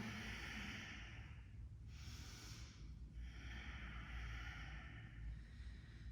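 Loud, close breaths during a power yoga session, hissing inhales and exhales with a brief pause between, steady and rhythmic with no talking.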